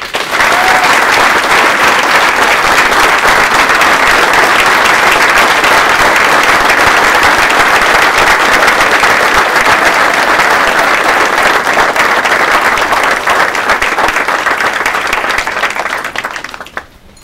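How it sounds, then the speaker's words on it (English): An audience at a military retirement ceremony applauds the retirees, dense sustained clapping that holds loud and even before tapering off at the end. "please join me in a round of applause for all the retirees on a job well done"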